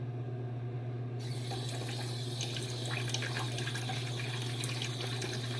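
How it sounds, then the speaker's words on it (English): Water running steadily from a tap to work up lather with shaving soap for a head shave, a continuous close splashing stream that starts brighter after a moment over a low steady hum, no voices. "Let me add a little bit of water."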